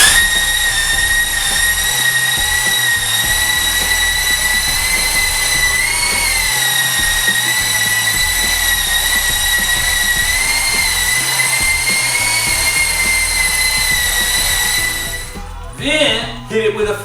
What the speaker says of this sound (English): I like to take a coarse belt sander, and I like to plug it in.